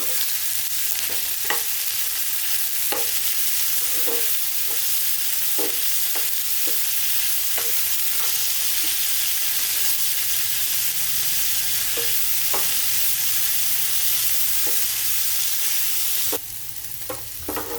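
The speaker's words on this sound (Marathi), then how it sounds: "कांदा आपला आता व्यवस्थित परतून झालेला आहे" Chopped onion with salt sautés in a pan for a vegetable curry, a constant dense sizzle with regular spatula scrapes and taps against the pan throughout. There is no talking.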